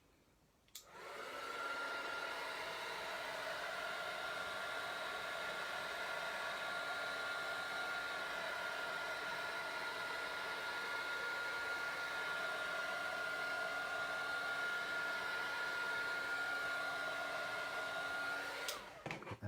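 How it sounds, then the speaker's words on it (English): A heat tool blows steadily over alcohol inks on a craft surface, a loud continuous whirring hum with a faint whine that starts abruptly, holds evenly for about eighteen seconds and cuts off at the end, with no talking. "drying them with the heat tool is that they won't spread anymore"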